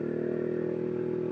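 A motorcycle engine hums steadily at a constant pitch while riding on the streets of Makassar, close and continuous with no talking.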